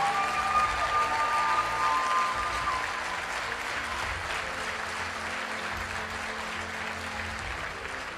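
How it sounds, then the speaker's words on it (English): An audience at a motivational talk applauds steadily, a dense wash of clapping that is loudest at the start and then eases off a little while carrying on evenly to the end. "Give yourselves a round of applause"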